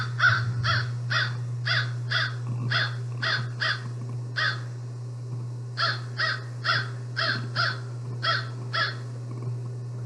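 Crows caw in a long series of short, evenly spaced calls in small bursts, fairly close and clear over a steady low hum.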